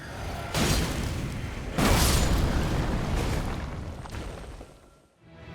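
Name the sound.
body exploding in the video game Elden Ring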